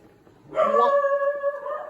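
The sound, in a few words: dog barking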